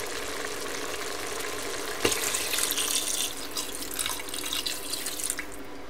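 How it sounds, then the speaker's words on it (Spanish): Water poured into a pot of beef stew already cooking on the heat: a steady hiss of simmering, then a sudden splashing gush of pouring water that lasts a few seconds before fading back to the sizzle. "Ya lleva unos minutitos en el fuego, así que vamos a ponerle el agua."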